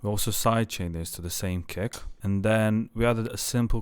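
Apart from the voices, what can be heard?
No everyday noise stands out behind the speech.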